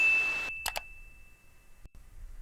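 A notification bell ding sound effect: after a burst of hiss, two quick bright clicks strike and a clear, high single tone rings on and slowly fades, loud and close, with no talking.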